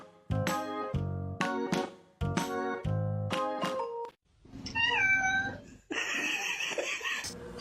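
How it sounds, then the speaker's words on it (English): A small kitten meows in repeated short calls, close and clear, followed by a few higher squeaky cries, with no talk over them. "I told you it was a little kitty."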